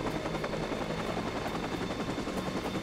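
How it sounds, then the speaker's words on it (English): Helicopter in the Watch Dogs video game, a steady rapid rotor chop and engine whine, loud and continuous throughout with no talk. "Mostly because I hate the damn chopper."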